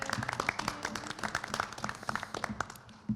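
A conference audience claps for the panelists, a brief burst of scattered applause from a modest crowd in a room.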